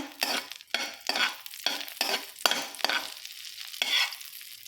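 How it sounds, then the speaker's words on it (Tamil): Butter sautéing in a hot pan for paneer butter masala, rhythmic spatula strokes scraping through a soft sizzle, roughly seven close, even strokes with no talking. "ஹீட்டில் வச்சு வதக்கி விட்டுக்கோங்க"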